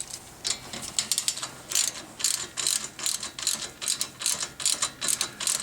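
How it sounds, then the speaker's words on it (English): A ratchet clicks in quick repeated bursts, tightening a 10mm fastener on a Honda Civic front strut, with close, crisp clicking strokes and short pauses between them. "So first thing we'll do is tighten the 10mm fastener right here."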